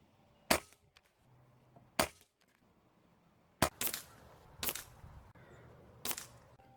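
Five sharp, close pellet gun shots with Fortitude pellets, spaced a second or more apart, each a crisp crack with a brief mechanical tail, against a quiet background.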